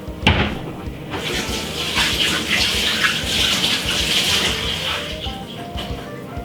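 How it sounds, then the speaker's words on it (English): Tap water runs steadily while hands are rinsed under it in a home kitchen during cooking, a continuous close splashing wash with small shifts in flow. "I'll just wash off my hand."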